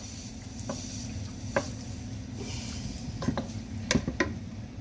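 Chili ingredients being mixed in a single pot: soft, irregular scraping and clinks of a utensil against the pot under a faint background sizzle, with a small cluster of sharper knocks near the end.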